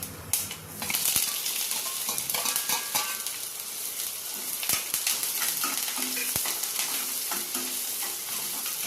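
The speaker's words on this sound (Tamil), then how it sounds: "ஒரு 2 நிமிஷம் நல்லா வதக்கிக்கலாம்." Mustard seeds, onion, green chilli and curry leaves sizzle and crackle in hot oil in a pan, with steady frying hiss, scattered pops and occasional metallic stirring clinks, close and alone.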